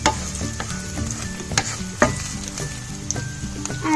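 Vegetables sautéing in a pan for Indian-style veg pasta, a steady sizzle broken by repeated scraping stirs and a few sharp utensil clinks, close and continuous with no voices.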